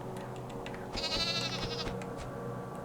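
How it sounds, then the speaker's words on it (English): A sheep bleats in the indie psychological horror game Burnhouse Lane. One clear, wavering bleat lasts almost a second over a low, steady ambient drone. "Oh, it's a sheep."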